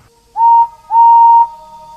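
A steam engine's whistle sounds twice, a short toot and then a longer steady blast, clear and close with nothing else around it.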